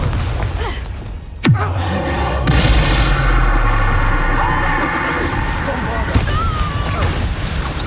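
The Confringo blast spell in the Hogwarts Legacy video game goes off as a sharp boom followed by a rumbling, sustained explosion with whooshing debris, loud and close amid game sound.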